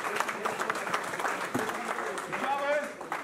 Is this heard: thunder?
no